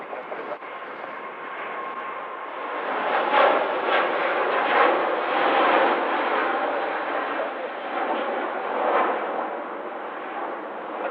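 A Singapore Airlines Airbus A350-941 jet airliner takes off from Manchester, a loud, continuous broadband engine roar that swells and rumbles in waves throughout, with no voices.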